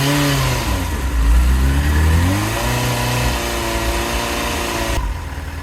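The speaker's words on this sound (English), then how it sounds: "Let's rev it up to see what happens." Yamaha motorcycle engine revving up from idle: one strong throttle blip that climbs and falls back, then holds a steady raised hum, loud and close with no talk.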